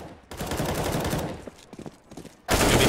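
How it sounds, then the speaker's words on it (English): Rapid automatic gunfire from a Counter-Strike match on the Train map, with dense, close bursts of shots that thin into scattered pops before a loud burst resumes at the end. "Sprays down one."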